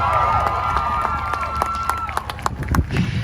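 A crowd claps and cheers for Mario Mathis at an outdoor Black Lives Matter rally in Logan, Utah. Sharp, scattered claps mix with whoops and a sustained shout over a rumbling background.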